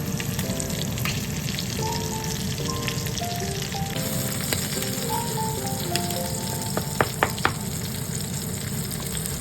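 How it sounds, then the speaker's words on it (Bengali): Egg frying with lemongrass stalks in a pan, a steady close sizzle running throughout with a few sharp clicks of a utensil near the end. "সব এখন আমি ভালো মতো আস্তে ধীরে ভেজে নেব, যাতে ডিমটা খুব ভালো মতো ভাজা ভাজা হয়ে যায়।"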